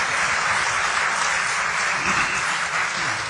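Audience applauding at an Urdu poetry recital, a continuous, even wash of clapping from a sizable crowd heard alone.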